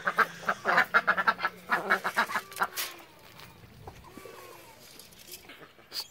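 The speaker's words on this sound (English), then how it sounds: "Stupid chickens and ducks." Ducks quack and chickens cluck in rapid, noisy bursts close by, then the flock quiets to scattered softer calls.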